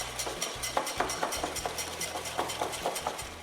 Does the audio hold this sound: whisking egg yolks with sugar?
yes